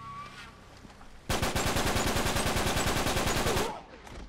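Rapid automatic gunfire from the video game Uncharted 3 rattles in a loud, sustained burst of evenly spaced shots lasting about two seconds, preceded by quieter game sounds.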